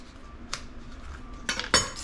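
A knife slices through vegetables on a cutting board in a home kitchen, giving a few sharp, close clicks and clacks, the last two strokes louder and set close together.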